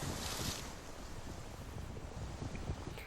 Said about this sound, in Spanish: Ocurre cuando las olas rompen las capas de hielo que se forman por las bajas temperaturas.